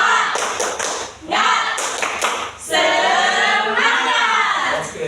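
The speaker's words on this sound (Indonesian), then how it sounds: "tepuk tangan semangat. Tepuk semangat" Students do a rhythmic spirit clap in a classroom, bursts of patterned claps alternating with group shouting, loud and close.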